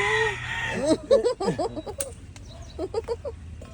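Farm chickens cluck and a rooster gives a crow, the calls close and fairly loud in uneven bursts, with a faint voice briefly in the background.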